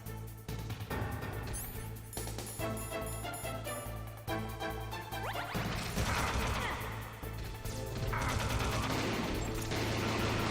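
Rapid bursts of gunfire and sharp impact cracks from the video game Metal Gear Solid, loud and dense over a steady low game hum, intensifying in the second half with sustained crashing shots.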